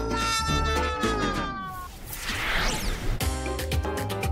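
A cartoon cat meows in a drawn-out cry over a busy, loud cartoon soundtrack of music and whooshing effects, with a crash partway through.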